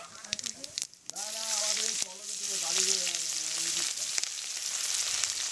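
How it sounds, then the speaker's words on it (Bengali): Dry red chillies, whole cumin and chopped onion frying in a generous amount of oil make a steady, crackling sizzle, with a voice talking over it for a few seconds. "তেলে দিয়ে দিচ্ছি দুটো শুকনো লঙ্কা গোটা জিরে পেঁয়াজ কুচি"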